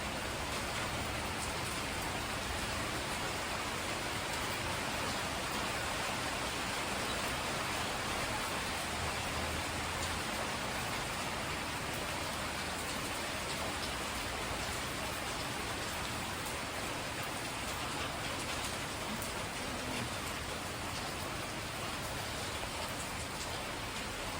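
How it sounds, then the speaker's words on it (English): Steady rain pours down on a rainy day in the Philippines, a dense, even hiss of drops striking surfaces nearby that holds unbroken and loud for the whole stretch, with no voices. "Rainy day here in the Philippines, folks."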